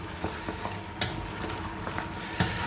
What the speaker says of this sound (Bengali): মাংসটা দেখেন ভাজা ভাজা হচ্ছে